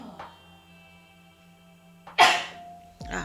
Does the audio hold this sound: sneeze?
yes